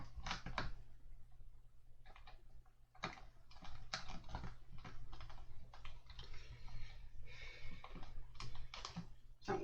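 Screws being driven into an Ecto-1 model kit give a run of dry clicking, ratcheting taps in uneven bursts, close up and moderately quiet over a low steady hum.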